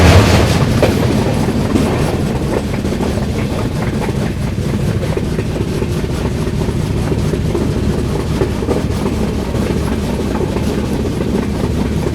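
A train on the Guwahati–Sairang express route rumbles steadily along the rails, its wheels clattering in a continuous rhythmic clack, loud and close throughout.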